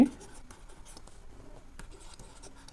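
Writing on a board during a maths lecture on sets and Venn diagrams, a series of short scratchy strokes in uneven bursts, fairly close and quiet, with no speech over them.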